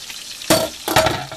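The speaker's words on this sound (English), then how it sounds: "You stir it up. Stir it up real good." Creamy grits in a pot being stirred, two close scraping, sloshing strokes of a spoon against the pot with a soft bubbling underneath.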